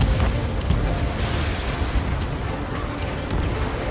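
A missile striking its target in the video game Ace Combat 7, heard as a dense, roaring explosive rumble that stays loud and broadband for several seconds, like a sustained blast with no distinct separate hits.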